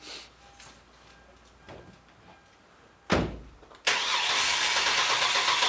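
A few quiet clicks and a thump, then an engine cranks briefly and catches, settling into a loud steady run up close.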